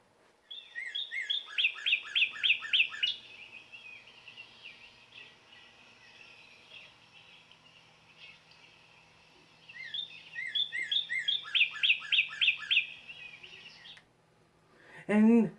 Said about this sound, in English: And the sound of the Northern Cardinal is this right here.